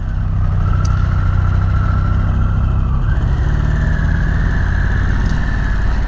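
Harley-Davidson Sportster S 1250 twin engine running steadily up close, a deep throbbing drone with a slight pitch rise midway, loud and continuous with no talking.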